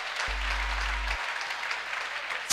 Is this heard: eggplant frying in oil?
no